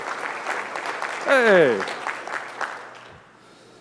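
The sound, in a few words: audience applause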